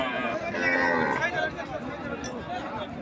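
Cattle at a busy livestock market give a long, loud low moo, with crowd chatter and people talking throughout the background.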